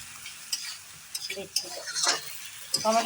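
Chowmein stirred and fried in a pan in a home kitchen, scraping and sizzling in short bursts, with faint utensil clinks on the pan.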